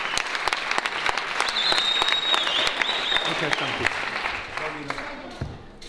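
An audience applauds at a theatre premiere of a Frank Sinatra show at a circus-style theatre in Békéscsaba, Hungary, loud full clapping with a few whistles that tapers off at the end.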